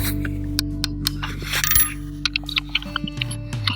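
Small metallic clicks from a rifle scope turret being dialed while sighting in a .223 rifle, a handful of sharp, close ticks spaced irregularly, some bunched together, over a steady low hum.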